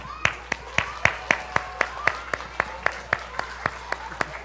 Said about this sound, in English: so everybody give a cheer to Red